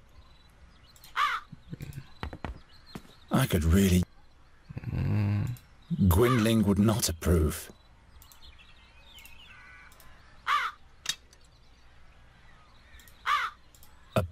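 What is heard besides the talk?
crows cawing in the video game The Dark Eye: Chains of Satinav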